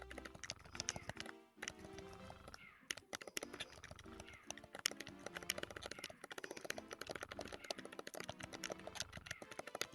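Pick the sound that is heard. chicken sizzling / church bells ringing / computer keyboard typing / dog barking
computer keyboard typing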